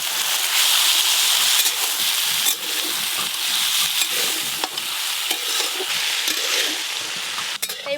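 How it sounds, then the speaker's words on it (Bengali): Potatoes, vegetables and chopped onion with turmeric and salt stir-fry in hot oil, a steady loud sizzle broken by scraping and clacking from a stirring spoon throughout, with no talk. "এইভাবে নাড়তে নাড়তেই ভাজা হয়ে যাবে আর সেদ্ধও হয়ে যাবে"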